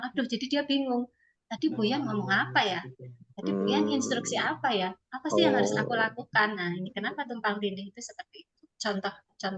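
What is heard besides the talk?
No everyday noise stands out behind the speech.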